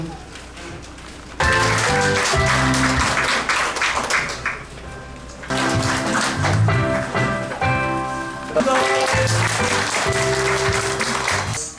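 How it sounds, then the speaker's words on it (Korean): Crowd applause welcoming people at an alumni association general meeting, three separate loud bursts of clapping with short gaps between them, mixed with background music. "여러분들 큰 박수로 어, 환영해 주시기 바랍니다."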